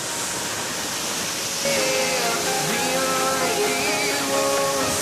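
Waterfall roaring as a loud, steady broadband rush at close range, with a voice talking over the water partway through.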